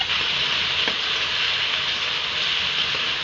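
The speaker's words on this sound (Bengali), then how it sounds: "জল দিয়ে আমি ফাটিয়ে নেবো মশলা" Ground cumin and chilli powder sizzling and frying in a pan with a splash of water for a Bengali chicken curry, a steady close hiss with no talking.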